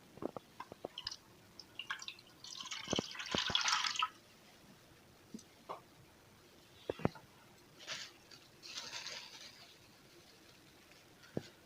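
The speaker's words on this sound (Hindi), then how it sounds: "इसमें हम पहले डाल देंगे 1 गिलास पानी।" A glass of water is poured into a bowl to start jalebi batter in a home kitchen, a short splashing gush amid quiet clinks and small handling noises.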